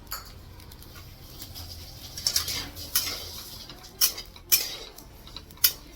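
Cumin and coriander seeds dry-roasting in a pan give off light, scattered crackles and clinks, with a few sharper pops standing out over a faint background, and no talking.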